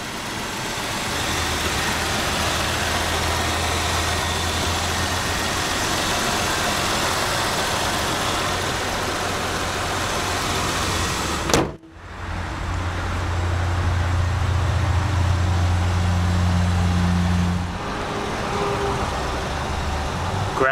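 A 2004 Nissan Pathfinder LE's 3.5-liter V6 idles with a steady low hum close to the microphone. A brief dropout occurs midway, then the idle resumes with a slightly changed tone.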